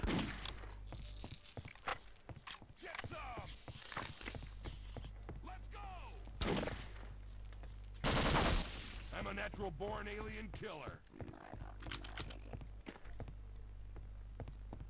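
Enemy gunfire in the shooter game Half-Life: Opposing Force, a dense run of sharp shots and impacts over a steady low hum, with one loud burst standing out midway; someone talks over much of it.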